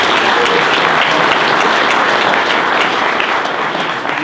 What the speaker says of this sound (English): I think you should all give yourselves a round of applause